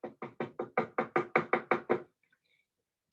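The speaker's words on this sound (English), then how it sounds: "There was a knock at the door." A knock at a door: eleven loud, close, evenly spaced raps over about two seconds, then silence.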